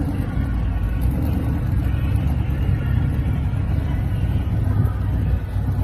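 A dump truck tows a drag race car at the strip, a loud continuous low engine rumble close by with faint crowd babble beneath it.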